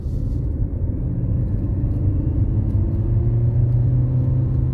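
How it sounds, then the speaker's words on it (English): Car pulling away under acceleration on a road during a test drive, a steady low engine rumble and road drone building slightly in the cabin, continuous and fairly loud with no talk. "Acceleration then, let's see."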